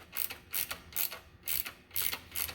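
Ratchet clicking in steady repeated strokes, about five quick bursts, while tightening valve cover bolts on a Honda GCV 190 small engine, close and fairly quiet with no talk.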